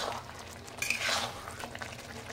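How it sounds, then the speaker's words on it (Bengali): A spoon scrapes and stirs spicy mutton curry in a pot over a raised gas flame, with soft clinks and a faint sizzle, fairly quiet and brief. "একটু নাড়া দিয়ে দিলাম যদি নিচটা লেগে যায়"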